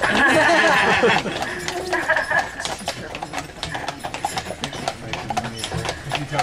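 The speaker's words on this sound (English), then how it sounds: "You would think these horses are really fast, but they're really slow" Carriage horses' hooves clop in a steady rhythm on a hard road on Mackinac Island, close by, with a few chuckles and murmurs of voices mixed into the background.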